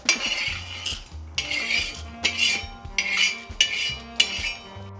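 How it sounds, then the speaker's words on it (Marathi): Roasted chana dal is scraped and scooped off a tava with a metal utensil, giving several loud bursts of clinking and scraping close by, with no speech. "आता आपण ही हरभरी डाळ बाहेर काढून घेऊया तव्यामधून"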